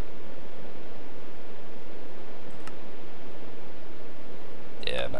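Steady rain ambience from the video game Minecraft, a soft broadband hiss that holds evenly throughout, with a few faint clicks and a brief sharper sound near the end.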